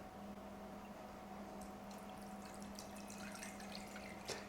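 Water poured into a bowl on a kitchen scale while mixing ciabatta dough, a quiet steady trickle and splash over a low hum, ending with a soft clink, no talking.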